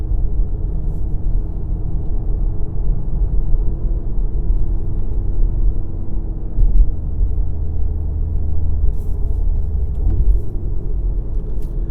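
Interior of a 2017 VW Golf R with manual gearbox driving on a road, a steady loud low rumble of engine and tyres, constant and unbroken throughout, no voices.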